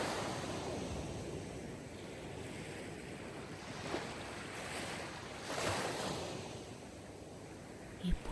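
Sea waves washing in a steady, continuous surf hiss with gentle swells, mixed with some wind noise, no voices present.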